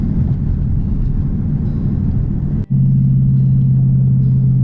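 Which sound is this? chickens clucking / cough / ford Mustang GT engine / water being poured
ford Mustang GT engine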